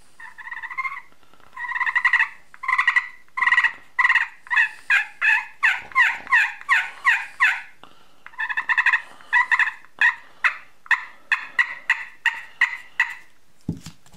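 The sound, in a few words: slate turkey friction call with striker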